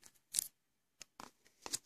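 Scissors cut open the packaging of a boxed music album, a few short, separate snips and crinkles with pauses between them, close and fairly quiet.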